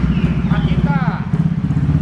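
A Honda CB300 motorcycle idles nearby with a steady, loud, pulsing engine rumble, while people talk over it.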